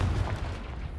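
A Confringo fire spell bursts in Hogwarts Legacy: a single heavy, muffled boom with a rumbling low-end tail filling the brief moment, no speech over it.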